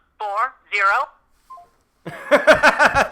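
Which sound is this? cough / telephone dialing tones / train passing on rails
telephone dialing tones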